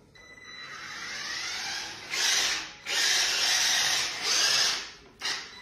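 An Eachine EC16 1:16 scale electric RC buggy's motor whines at fairly low level, rising and falling in several throttle bursts with short pauses between them, and no talking.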